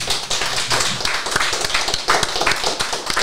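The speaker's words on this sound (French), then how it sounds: "Je pense qu'il mérite des applaudissements." An audience applauds Arnaud at the close of a French conference on laïcité, the dense, steady clapping filling the whole stretch at close range with no voices over it.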